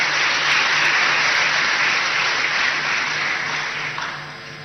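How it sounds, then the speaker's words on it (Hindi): A hall audience breaks into sustained, dense applause welcoming a chief minister at an official gathering in Bhopal, loud and steady throughout before easing slightly at the end. "जोरदार तालियों से अपने मुख्यमंत्री साहब का स्वागत करें"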